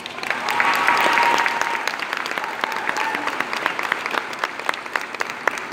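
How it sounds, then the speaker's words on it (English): An audience gives a full round of applause, dense clapping that swells early then thins out into scattered individual claps, with faint crowd voices mixed in. "Let's give them a round of applause."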